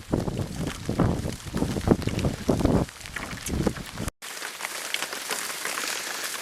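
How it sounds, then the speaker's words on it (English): Heavy, steady rain pours over a lake during a cold spring trout-fishing trip in Algonquin, a dense hiss with wind buffeting the microphone, cut by a brief dropout before the downpour continues. "Pouring rain and probably about 4 degrees."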